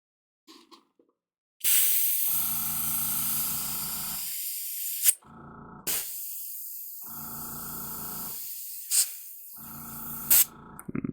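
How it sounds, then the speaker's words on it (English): An airbrush sprays cleaner through its nozzle while priming miniatures, giving a steady close hiss in three long bursts with brief gaps and sharp puffs between them. "we'll spray the remainder in through it to clean up the nozzle portion itself"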